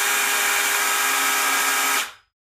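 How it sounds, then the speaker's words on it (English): A chainsaw runs loud and steady at close range for about two seconds, then cuts off abruptly into silence. "Be careful with chainsaws out there, please."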